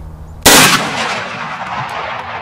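A single loud, close shotgun blast from a 3.5-inch steel BB shell fired through sheets of plywood outdoors, a sharp crack followed by a long rolling echo.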